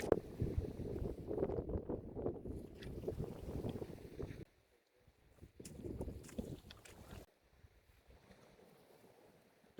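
Gusting wind buffeting the microphone on a beach while fishing for bass and smooth hounds, a rough low rumble for several seconds, a pause, then a shorter gust before fading to near silence.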